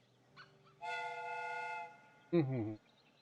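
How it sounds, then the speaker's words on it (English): A steam whistle on a replica train in a Sherlock Holmes video game gives a long clear tonal blast, then a shorter, lower, harsher toot after a pause, fairly quiet overall. "The steam whistle is ready to be used."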